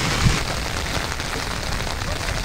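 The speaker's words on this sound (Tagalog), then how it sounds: "Ang lakas ng ulan!" Heavy rain pours down during a fishing outing in Bulacan, a loud, dense and unbroken hiss of drops striking surfaces all around, with no pause.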